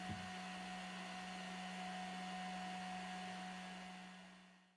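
A hair dryer blows with a steady, even whoosh and a constant motor hum, running alone for several seconds before winding down at the end.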